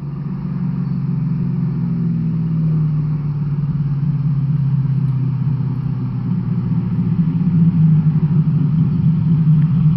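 A Chevrolet Camaro drives along with a loud, steady low engine rumble, its pitch sliding down briefly as the transmission shifts before the drone settles and builds again.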